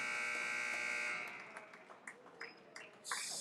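An electronic buzzer sounds at the end of a quarter at a boys' high school basketball game. It is a loud, sustained harsh drone that cuts off after about a second, followed by faint gym noise and short sharp squeaks.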